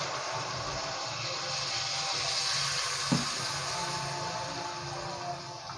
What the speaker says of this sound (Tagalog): Lalagay tayo ng kunting tubig